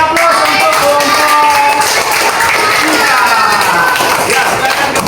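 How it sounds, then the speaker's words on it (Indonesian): A classroom audience claps for a student group that has just finished presenting, a dense steady round of applause lasting several seconds. "Berikan aplaus untuk kelompok"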